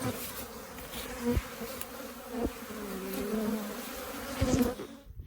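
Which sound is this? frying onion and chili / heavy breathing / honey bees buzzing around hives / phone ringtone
honey bees buzzing around hives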